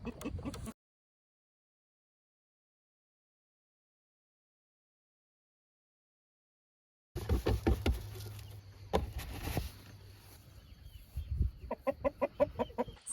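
Chickens, eight-week-old meat birds, cluck in bursts after a long stretch of silence, close by, with rapid repeated calls toward the end.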